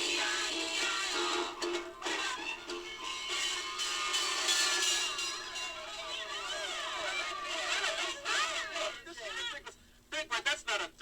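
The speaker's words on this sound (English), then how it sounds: "Big Bird, that's not a duck. That's a fire engine" A fire engine sound effect played from a children's record, heard as wavering siren-like tones that sweep up and down over a steady mechanical backing and fade out in choppy bursts at the end.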